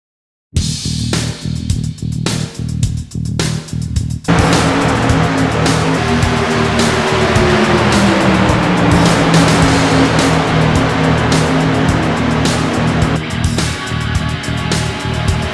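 Race cars at Homestead-Miami Speedway in the iRacing simulator, Silver Crown machines roaring in a loud, dense engine drone that pulses at first, then settles into a sustained, swelling pack sound with no voices.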